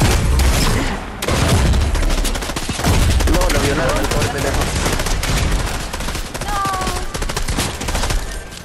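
Rapid gunfire at bots in a video game: loud, dense bursts of automatic shots and booms fill the stretch almost continuously, with a brief gap near the start and faint voices mixed in.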